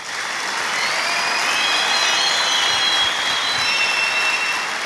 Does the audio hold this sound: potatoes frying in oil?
no